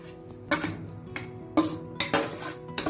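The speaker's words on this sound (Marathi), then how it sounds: "त्यात आपण आता शिजवून घेतलेली डाळ घालूया।" Cooked dal added to boiling drumstick amti and stirred: a spoon clinks and scrapes against the metal pot in several sharp knocks over a steady low bubbling, close and fairly loud, with no voices.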